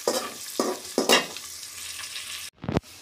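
Meat sautés in hot mustard oil in a pan, with a steady sizzle broken by several scraping stirs, then a brief pause and a sharp clatter near the end, up close with no talk.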